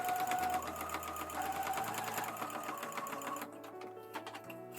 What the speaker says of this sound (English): Then I'll finish the sewing where they overlap